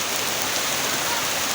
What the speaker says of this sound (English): So the rain is coming, and we are waiting and see.